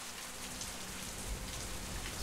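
Gentle rain falls without pause in the horror game The Path, a faint uniform hiss of drops on the ground with no voices.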